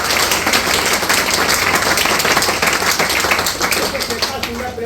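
A loud, dense burst of audience clapping for a company founder at a Hindi-language motivational business event, with steady applause filling the whole stretch before easing slightly at the end.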